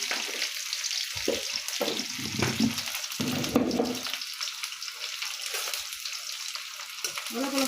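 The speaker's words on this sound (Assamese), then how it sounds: "অলপ অলপ ফ্ৰাই কৰিম, বেছি পিঁয়াজটো ফ্ৰাই নকৰিব" Chopped onion frying with black cumin seeds in a hot pan, a loud continuous sizzle with crackling bursts and a few stirring scrapes, close up.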